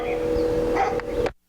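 In the FMV game Tender Loving Care, a dog barks on a played-back recording, faint and muffled over a constant hum, before the sound cuts abruptly to silence.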